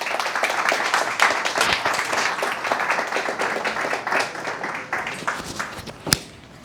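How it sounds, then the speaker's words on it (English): Sustained audience applause at a conference in Newry for speaker Charlene Higgins, dense steady clapping throughout, with one sharp loud clap near the end as it tapers. "a big round of applause for Charlene Higgins"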